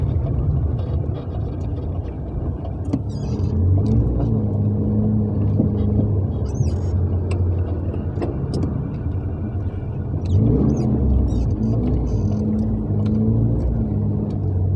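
An old car drives along with a steady low engine rumble and droning hum that swells and eases, several sharp clicks and rattles breaking through.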